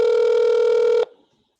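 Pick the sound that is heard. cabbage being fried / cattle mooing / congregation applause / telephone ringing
telephone ringing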